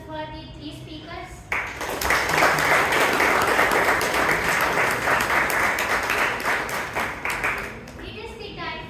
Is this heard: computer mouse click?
no